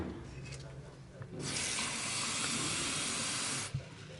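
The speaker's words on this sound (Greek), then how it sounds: "Όμως πριν θα βάλω νεράκι μέσα." Water pours steadily into the pot of a Ninja Foodi cooker for about two seconds, a bright rushing hiss that starts and stops abruptly, with quiet room sound before and after.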